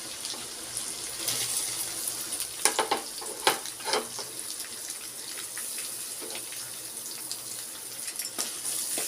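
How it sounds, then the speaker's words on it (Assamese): Onions sizzle steadily in hot oil in a pan, a close, continuous frying hiss broken by a few sharper stirring clatters, with no talking. "পিঁয়াজখিনি মই অকণমান ৰঙচুৱাকৈ ভাজিম।"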